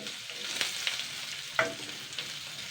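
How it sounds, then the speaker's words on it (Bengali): Chopped onions frying with cumin in hot oil, stirred gently with a spatula: a soft, steady sizzle with a few brief scraping strokes, fairly quiet and close. "পেঁয়াজটাকে আগে আমি দুই মিনিট মতন হালকা নাড়াচাড়া করে নেবো"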